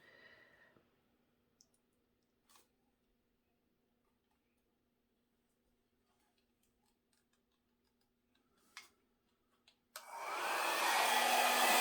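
A hair dryer used on acrylic pour paint switches on abruptly near the end and blows loudly and steadily, after a long quiet stretch with a faint ticking hum and a few small clicks.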